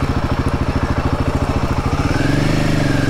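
A motorcycle on a rural hill road in Purulia roars by at close range, its engine pulsing loud and steady before the pitch shifts as it passes.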